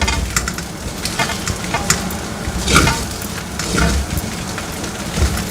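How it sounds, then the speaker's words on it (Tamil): Noodles tossed with paneer tikka in a hot pan, a loud continuous sizzle with repeated scraping and stirring strokes, uneven surges of frying noise heard close up without any speech. "நம்ம இப்போ இந்த நூடுல்ஸில் டிக்கா சேர்த்துருக்கோம். இது பக்குவமாக கலந்து விடணும்."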